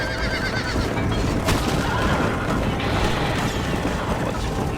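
A horse in the video game Red Dead Redemption gives a whinny over a steady backdrop of clanking, rattling game effects, the neigh rising briefly near the middle of the stretch.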